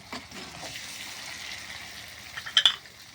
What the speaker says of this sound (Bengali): তেলটা গরম হয়ে গিয়েছে, এখন আমি দেবো পেঁয়াজ, রসুন, সরিষা, জিরা ও কাঁচামরিচ বাটা